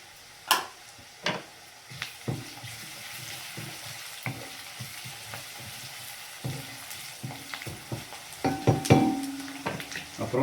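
Chopped green chillies hitting a hot pan of browning onions for a mushroom masala gravy, with a steady close sizzle, scattered stirring clicks and scrapes, and a louder burst of frying near the end.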